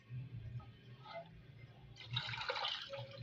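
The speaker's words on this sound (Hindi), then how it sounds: "अब हम इसके अंदर पानी को ऐड करेंगे।" Water pouring into a cooking pot for chicken biryani, a faint low background then a brighter splashing gush as the stream fills the pot.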